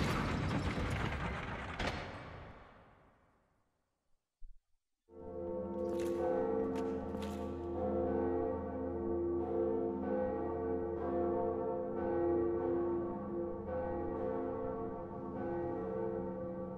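In the Dark Souls video game, a lever is pulled with a mechanical clank, then a church bell tolls loudly with long, ringing overtones that sustain and fade.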